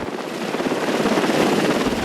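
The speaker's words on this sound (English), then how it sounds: "We heard the helicopter sound, which came from above" A helicopter hovering above the Mavi Marmara ship during the 2010 raid gives a loud, steady, close rotor roar with a broad rushing wash that fills the whole stretch without a break and with no voices.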